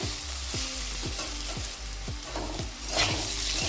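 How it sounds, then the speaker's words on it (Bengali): Potatoes fry in oil seasoned with salt and turmeric, a continuous close sizzle with regular rhythmic stirring scrapes about every half second. "এবার আলুটাকে আমি একটু ভেজে নেব আলুটাকে চার পাঁচ মিনিট একটু ভেজে নিতে হবে"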